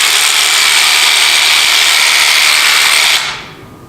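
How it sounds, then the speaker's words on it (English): A Theragun percussive massage gun runs loudly and steadily like an electric drill, a dense sustained whir that cuts off abruptly near the end. "I just want to give you a quick clip of my previous video of the Theragun to just show you how loud that was."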